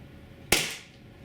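A single sharp crack from a Tiberius T9.1 carbine firing on HPA, a sudden loud pop with a short fading hiss afterward, alone without talk.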